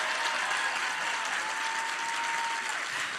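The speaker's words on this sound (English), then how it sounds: "Applaud, applaud." Steady, even applause from a convention panel audience at PAX East fills the whole stretch at moderate volume, with no voices over it.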